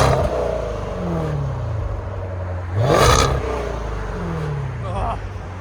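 Supercharged 5.0L V8 in a 2022 Range Rover SVR with X-pipe and resonator delete, valves open, idling with a low steady burble and a couple of brief revs, under occasional talk.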